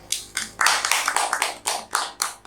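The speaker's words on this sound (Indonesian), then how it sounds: "Alhamdulillah, tepuk tangan." A small group claps in quick, uneven bursts, close and lively, with no talking.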